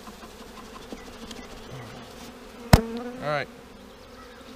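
Honeybees hum steadily in the background, a low continuous buzz, with a sharp click and a brief spoken remark partway through.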